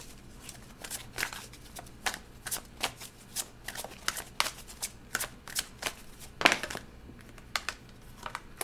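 A tarot deck is shuffled close up in a string of crisp riffling bursts and papery flicks, quick and uneven, with one sharper slap of cards near the end.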